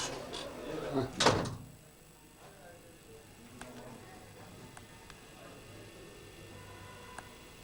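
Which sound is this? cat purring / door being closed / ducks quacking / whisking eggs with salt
door being closed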